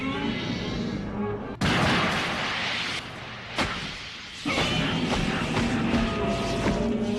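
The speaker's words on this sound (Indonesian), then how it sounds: "rudal anti Godzilla disiapkan dan langsung menembaki Godzilla" Anti-Godzilla missiles fire at Godzilla in Godzilla 2000: Millennium as loud, close blasts and booms, with sharp impacts near 1.5 and 3.5 seconds over a constant roar of explosions, no voices.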